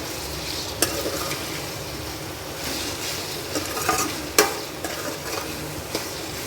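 Mutton keema with onions is stirred and fried in a pan, a steady sizzle running under scraping spoon strokes, with a few sharp clinks of utensil against metal.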